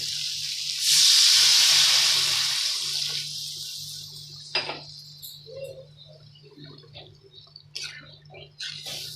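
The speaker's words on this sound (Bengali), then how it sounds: "মটরটা আমি সেদ্ধ করে জলটাকে সেঁকে রেখেছিলাম, সেই জলটাই আমি এর মধ্যে দিয়ে দেব।" Saved water from boiling peas is poured into a pan of ghugni, a loud rushing splash for a second or two that fades into softer trickles, clinks and small kitchen sounds.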